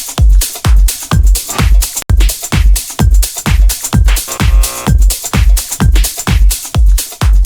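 A DJ mix of two tracks playing together with both low EQs turned up, giving a loud, muddy, booming bass; heavy kick thumps pulse in a steady rhythm under a dense, bright top end, with no talking.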